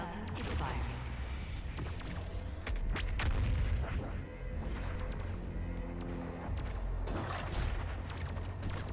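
Deep booming blasts of the BIG-10,000 cannon firing in the video game Doom Eternal, heavy and repeated over dense game noise, with a voice speaking over the action.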